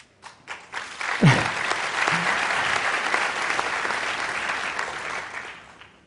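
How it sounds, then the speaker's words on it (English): Audience applause for the Rwandan Ministry of Health at a talk on drone blood delivery, rising after a few scattered claps into sustained, dense clapping that holds steady, then tapers at the end. "Yeah, they deserve the applause."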